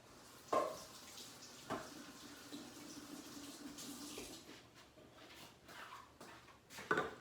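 A can is rinsed under a running kitchen tap, giving a soft, steady stream of water with a few sharp splashes and knocks as it is handled; fairly quiet and close, with no speech.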